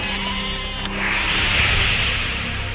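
Sheep and goats bleating together in a flock, a dense, continuous wash of overlapping bleats at close range, swelling louder midway through.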